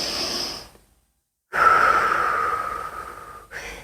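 Breathing during a neck stretching exercise: a soft exhale trails off into a second of silence, then a long, steady, close breath follows, with another breath beginning at the end.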